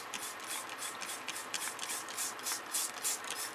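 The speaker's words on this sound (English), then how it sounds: "And we're going to go ahead and spray it down." Warm water at about 98 degrees Fahrenheit sprayed from a spray bottle onto the paper of a comic book during conservation work, heard as a quick run of soft, close hissing spritzes with faint handling noise between them.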